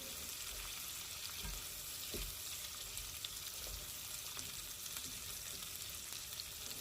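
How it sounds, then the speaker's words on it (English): Onions and peppers sauté quietly on a large flat-top griddle used for street-style bacon-wrapped hot dogs, a soft, even sizzle holding steady with a few faint low knocks. "I'm just going to start to saute the onions and peppers"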